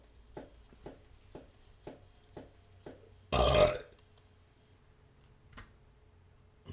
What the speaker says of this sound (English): I do my burp sound.